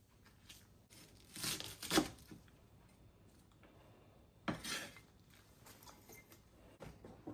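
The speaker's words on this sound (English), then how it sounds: "So I'm taking the cabbage I bought, chopping it up, and making a simple sauerkraut." Cabbage being chopped and shredded by hand for homemade sauerkraut, a series of crisp tearing, crunching cuts in uneven bursts, with two louder strokes standing out against quiet gaps.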